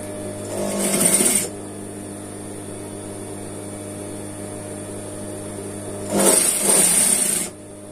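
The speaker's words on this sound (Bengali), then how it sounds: "এখন মেশিনে এই সাইড দিয়ে আপনার সিলাইটা দিয়ে দেব।" A sewing machine stitches the side seam of a kameez in two short runs of rapid whirring, separated by a quiet pause filled with low mains hum.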